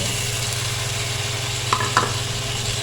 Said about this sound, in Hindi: अब इसमें डालेंगे 2 कटे हुए टमाटर रफली चॉप किए हैं।